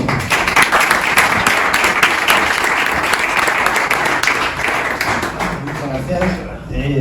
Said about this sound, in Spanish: vamos a darle la bienvenida y un gran aplauso a Manuel Machado